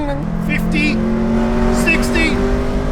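A turbocharged Mitsubishi Lancer accelerating hard, its engine note climbing steadily from inside the cabin, loud and continuous, while a voice calls out over it.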